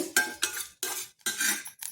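A metal spoon scrapes and clinks against a pan as agase leaves are stirred and roasted, coming in four distinct bursts of close, bright rattling with short pauses between.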